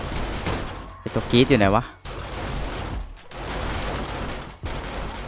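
Automatic turret gunfire in 7 Days to Die with a modded turret ammo type, rapid repeated shots running under someone talking, with a brief game tone between bursts.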